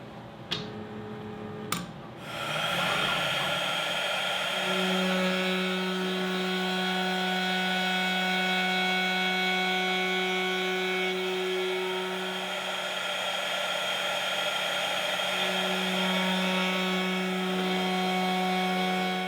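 A CNC router with a ball nose bit carves wood slowly for a board game element tracker and tokens. The spindle whine starts after about two seconds and holds steady and loud, shifting pitch slightly as the cut continues, with no talking.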